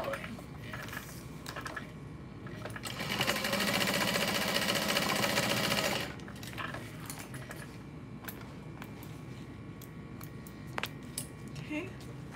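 A sewing machine runs a steady, continuous burst of stitching across the top seam of a Minni backpack for about three seconds, fairly close, with quieter workroom handling sounds before and after.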